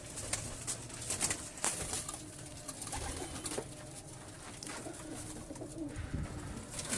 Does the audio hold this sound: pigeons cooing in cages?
yes